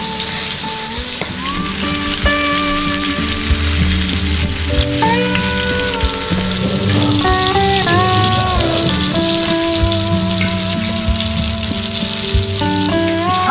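Fish frying in a pan at an outdoor cooking session in the Konkan, Lanja, Ratnagiri, a loud steady sizzle and crackle throughout with background music playing over it.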